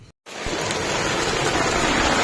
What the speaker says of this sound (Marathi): बघा पाऊस लागलेला आहे संध्याकाळी पुन्हा एकदा